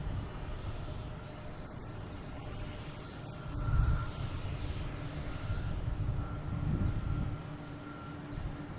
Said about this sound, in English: It's flight 346, an A321 Neo.